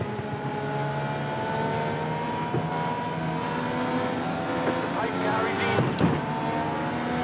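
A Dallara IR-18 race car in the iRacing game accelerates at Indianapolis Motor Speedway, the engine note rising through several climbing sweeps, steady and fairly loud, with brief clicks and a bump near the end.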